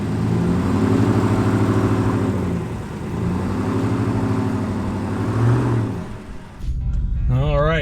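Tires of a 2019 Ram Rebel pickup spin in snow while the engine revs in long, loud surging waves, dropping off near the end as a voice briefly cuts in.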